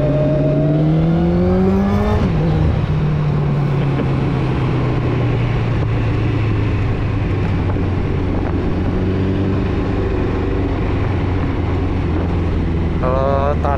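Honda CBR900 Fireblade SC28 motorcycle accelerating hard on a test ride; loud, close engine climbing in pitch through gear changes, with heavy wind rush throughout.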